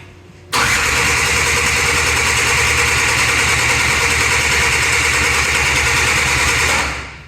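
Engine on a pro street quad build cranks and catches almost at once, then runs at a loud steady roar close by for several seconds before cutting off at the end.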